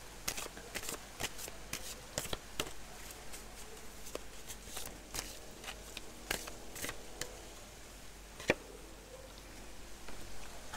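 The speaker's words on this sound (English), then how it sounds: "I'm going to go ahead and just shuffle the cards a little bit more" Tarot cards being shuffled by hand, soft irregular riffling and flicking bursts with sharper snaps now and then, close and fairly quiet, no talk.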